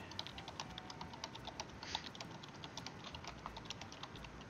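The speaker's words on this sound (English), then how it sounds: "That's a lot of typing." A computer keyboard clatters with fast, continuous typing, many light key clicks close up and fairly quiet, with no voices over it.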